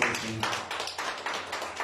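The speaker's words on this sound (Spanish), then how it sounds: "Den un fuerte aplauso" A congregation at a church service claps in quick, evenly spaced strokes, a brief steady burst of group applause at moderate distance.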